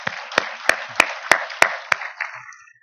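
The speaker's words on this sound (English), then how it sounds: "A big round of applause for supporting the VEF." A small audience at an evening Vancouver Enterprise Forum wearable-tech event gives sharp, evenly spaced claps, about seven distinct strikes under a soft patter, all fading out within three seconds.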